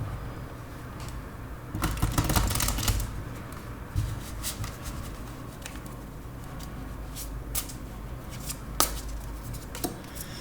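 Tarot cards being drawn and shuffled during a love reading, bursts of rapid papery riffling and flicking near the start, then scattered soft snaps and taps of single cards over quiet background.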